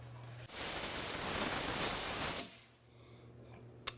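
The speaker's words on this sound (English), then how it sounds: "Let's rinse it off and then steam it" A jeweler's steam cleaner blasts a repaired ring prong with a loud, steady hiss lasting about two seconds, nearby and uninterrupted, then cuts off to a quiet hum.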